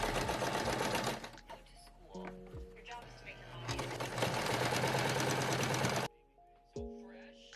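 A sewing machine stitches the edge of a recycled nylon swimsuit in long, loud runs broken by short pauses. Someone talks between the bursts of stitching.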